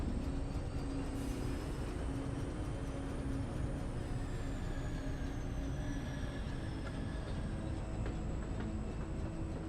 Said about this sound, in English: I don't know why random trains come up here and do this.